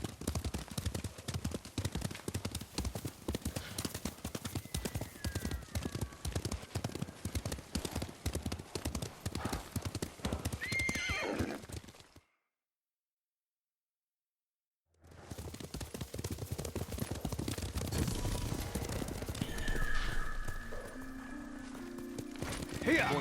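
Horses gallop in a steady, rapid clip-clop rhythm in Ghost of Tsushima, hooves pounding under voices and a brief whinny, then cut to silence for a few seconds before galloping resumes with more talk.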